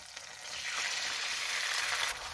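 Eggs hit a hot pan for a pork, mushroom and cabbage stir fry, filling the clip with a loud, close, continuous sizzle and crackle with no talking.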